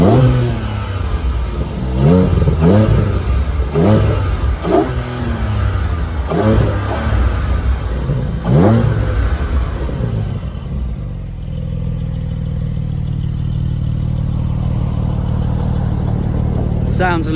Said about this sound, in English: But let's have a little listen to the exhaust on this thing.